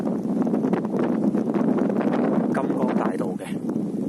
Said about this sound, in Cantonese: 咁其實呢個風景都幾靚，但係幾大風呢度。